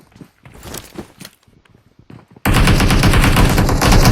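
Gunfire in PUBG Mobile: quiet shuffling and a few faint shots, then a sudden loud, sustained burst of rapid automatic fire that runs to the end.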